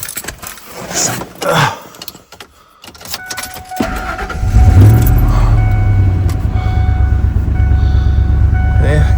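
Pickup truck with a suspected transmission fault and check engine light on, 83,000 miles, cranking to life about halfway through, then settling into a steady, rumbling idle close by, with a brief rattle of keys beforehand.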